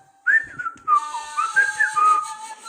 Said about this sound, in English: Your whistling needs work.